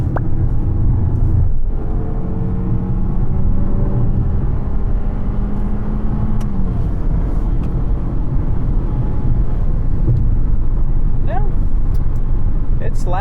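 A 2021 Toyota RAV4 LE's 2.5-litre engine drones loudly and coarsely as it accelerates, a steady rumble that fills the cabin throughout, with engine tone rising before one upshift.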